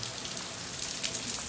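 Steady rain falls outdoors during a hurricane, a dense, even hiss of drops spattering on surfaces close by, continuous and fairly loud throughout with no voices.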